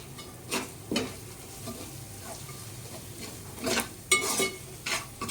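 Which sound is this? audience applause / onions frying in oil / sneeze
onions frying in oil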